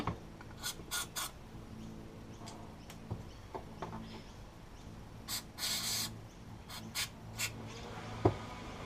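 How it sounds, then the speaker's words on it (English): Short hissing bursts of carburetor cleaner spray on a two-stroke outboard motor that was submerged, several quick squirts in irregular rhythm, close by, over faint scraping and a low background hum. "I'll just use a bit of carb cleaner on this."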